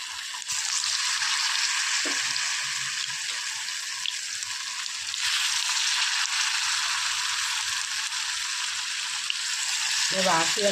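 Ripe jackfruit pieces fry in hot oil for chakka pori, giving a steady, close, hissing sizzle that runs unbroken, with a few faint clinks and bubbling near the end.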